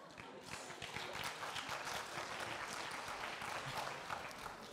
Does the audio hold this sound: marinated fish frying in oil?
no